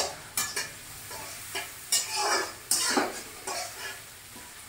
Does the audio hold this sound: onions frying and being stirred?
yes